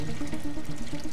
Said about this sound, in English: They place the eggs in water,